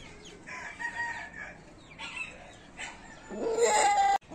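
A rooster crows loudly and close by, preceded by a few short clucks, with a brief cut-off at the very end.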